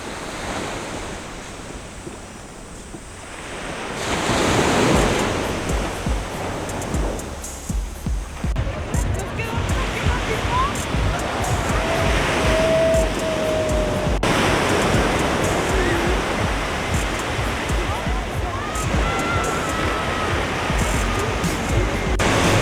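Ocean surf rolls onto the main beach by downtown Sayulita, Mexico, a loud continuous wash of breaking waves with wind buffeting the microphone and faint background activity.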